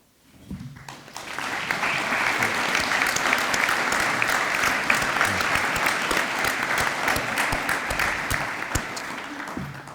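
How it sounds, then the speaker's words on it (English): A round of applause from the audience at a university senior breakfast, rising quickly after a brief quiet start into steady, full clapping that carries on evenly for the rest of the stretch. "please stand, let's recognize them and give them a round of applause"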